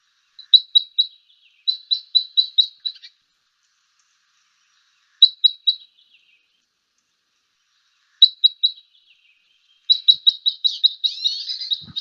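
Red crossbill finch call type 10, a thin rising up-sweep note, repeated in quick clusters of three to six calls with pauses between, clear and fairly close with no other sounds.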